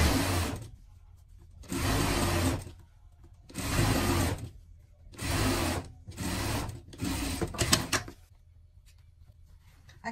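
Sewing machine stitching the hem of an animal-print dress, running in five or six bursts of a few seconds each with short quiet pauses between, close and clear with no talking.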